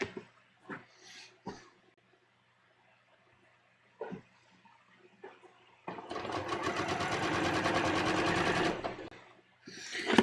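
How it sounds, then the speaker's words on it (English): A sewing machine stitches around the neckline of a bias-cut V-neck dress in one steady, close run of about three seconds, preceded by a few soft handling taps and clicks. "And I'm just going to sew all the way around."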